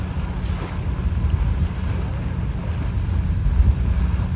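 Rainwater gushes out strongly at Dolomite Beach after rain, a steady, loud low rushing roar mixed with wind noise on the microphone, continuous with no talking.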